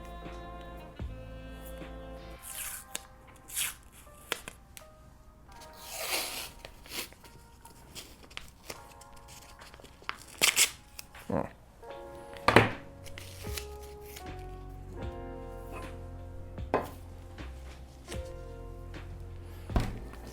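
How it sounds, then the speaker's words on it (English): A roll of tape is handled and picked open at a workbench while a headphone stand is being built: quiet scattered clicks, taps and short peeling rasps with a few louder knocks, no voice. "Let's find the end of it, because I don't think I've even actually opened this tape yet."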